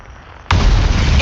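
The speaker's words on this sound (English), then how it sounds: "there's another one exploding" A sudden loud blast from an explosion in the video game Outer Wilds bursts in after a quiet, low ambient stretch, then holds as a dense, sustained roar to the end.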